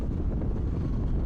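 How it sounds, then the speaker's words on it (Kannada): Strong wind blowing across a microphone outdoors in a hilly valley landscape, a steady dense rumble with constant buffeting and no pauses, loud and close throughout. "ಗಾಳಿ ಸಿಕ್ಕಾಪಟ್ಟೆ ಐತೆ."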